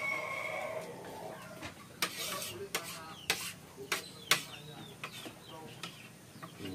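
A chicken clucks in a series of short, sharp bursts spaced irregularly, fairly close and moderately loud, with a faint background hum and no speech.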